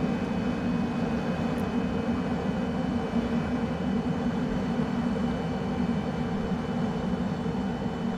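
Honda Jet in Microsoft Flight Simulator 2020, a steady, even engine drone with constant tones, continuous and unchanging throughout with no talk.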